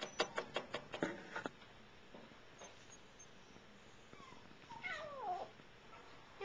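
A scared stray kitten gives a few faint, thin meows near the end, after a short burst of tapping and rustling at the start, in an otherwise quiet outdoor setting.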